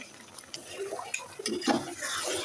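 Pot lid lifted and kala bhuna, a traditional Bengali dark beef curry, stirred in a cooking pot: a few soft metallic knocks and scraping clinks, fairly quiet, with light liquid sounds and a brief murmur of voice.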